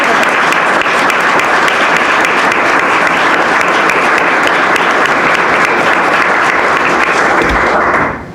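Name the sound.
audience applause for candidates at gala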